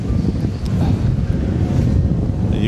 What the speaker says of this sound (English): very windy, very, very windy